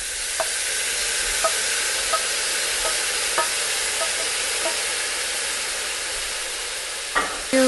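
Diced tomato stirred into a frying spicy eggplant dish, with a steady sizzle under repeated spoon scrapes and clinks against the pan at an uneven rhythm, close and clear.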